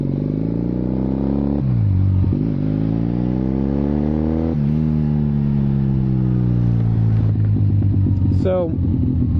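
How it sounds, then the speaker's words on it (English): A 1981 Kawasaki KZ440 motorcycle being ridden, its engine loud and close with a steady drone that climbs in pitch through each gear and drops at every shift. "I decided I'd go out for a ride."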